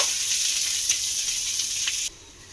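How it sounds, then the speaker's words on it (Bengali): Grated ginger frying in oil in a pan for a pointed gourd dish, a loud close hissing sizzle that runs steadily for about two seconds, then drops suddenly to a quieter hiss. "দিয়ে একটু ভালো করে তেলের সঙ্গে ভেজে নেব।"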